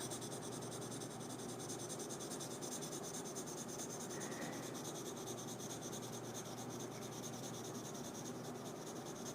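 A soft 4B graphite pencil scratches steadily across paper at close range. The faint rubbing stroke continues throughout with no talk.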